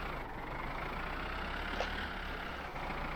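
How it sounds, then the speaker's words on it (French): Tractor engine in the driving game My Summer Car, running as a steady, close low drone at constant loudness, with no distinct throttle blips standing out. "je donne des petits coups de gaz"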